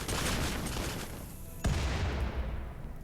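Explosions and gunfire in the colony-building video game RimWorld: dense rattling fire with a sharp loud boom partway through, followed by continued crackling blasts.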